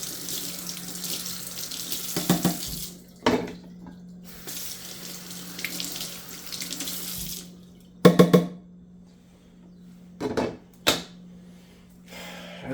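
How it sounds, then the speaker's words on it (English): Tap water runs into a sink while products are rinsed under it, a steady splashing stream broken by short pauses and a few louder bursts, close by with no speech. "And then rinse off your products."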